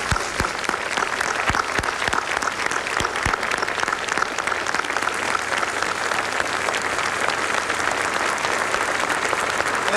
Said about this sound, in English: We want to give you a big round of applause.